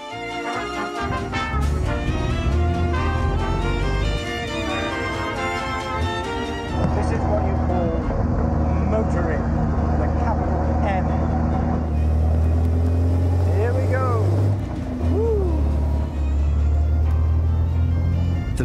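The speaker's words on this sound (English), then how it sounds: "I think it's time to get my foot behind the wheel of this true British classic." A British classic sports car, the Knobbly, drives with a steady low engine rumble and road noise, loud and close throughout, with a rising pitch sweep near the end.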